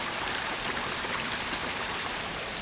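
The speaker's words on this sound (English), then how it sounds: "As you walk along the river, the first thing you notice is just how many tiny waterfalls and pools there are." A small river spilling over many tiny waterfalls into pools at Joe's River, Barbados, making a steady, broad rush of flowing water with no voices.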